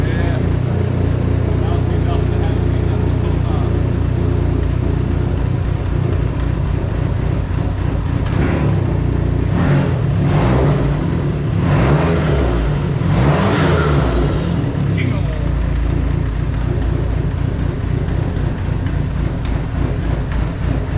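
Dodge SRT-4 car engine running and revving, a steady mid-pitched drone with several rising revs in the middle, under people talking.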